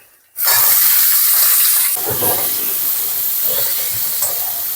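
Capsicum dropped into hot oil with onion, garlic and ginger for a chilli baby corn dish bursts into a loud, sudden sizzle that settles into a steady, close hiss.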